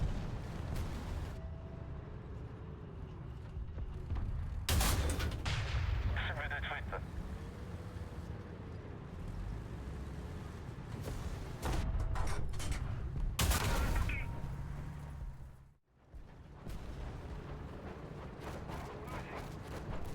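Tank cannon fire traded with a German StuG in War Thunder: heavy booming shots and rumbling battle noise, a few loud blasts amid steady engine drone, with someone talking over much of it.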